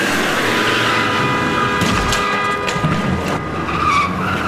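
A car skids to a stop inside a tunnel, its tyres squealing in a loud streak over engine rumble and echoing reverberation, then fading into lingering road noise.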